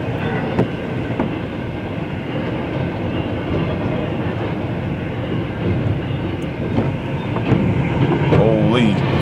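A heavy CN freight train led by locomotives 8804 and DPU 8808 rolls steadily past at close range, a continuous loud rumble of wheels and cars with faint clatter and a brief squeal near the end.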